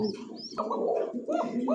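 White Arabian Cocka pigeons coo in a pair of soft, repeated rolling calls close by, with a few higher chirps layered over the steady cooing.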